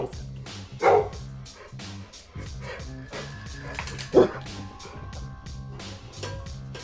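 A dog gives two loud, close barks a few seconds apart over a steady background of music or tones, with softer whimpering sounds between.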